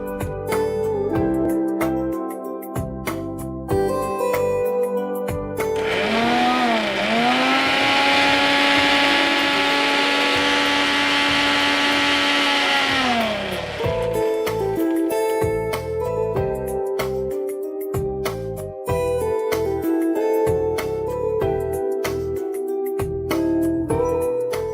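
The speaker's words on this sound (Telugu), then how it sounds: "సో ఇది చక్కగా మిక్సీ పట్టేసుకో." A mixer grinder blends kiwi with salt and water for a kiwi cocktail in a kitchen, starting with a loud rising whine, running steadily for about eight seconds, then winding down, with music playing before and after.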